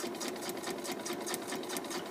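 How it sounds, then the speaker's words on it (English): A sewing machine running continuously at close range as it stitches fabric along a drawn line, a fast even mechanical whir with a regular pulsing rhythm and no pauses. "and I'm going to keep sewing"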